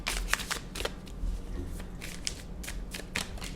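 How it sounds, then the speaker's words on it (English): Tarot cards being shuffled in quick riffling bursts, crisp papery flutters repeating close by with brief pauses between them, no talking. "I'm just going to give it a quick shuffle."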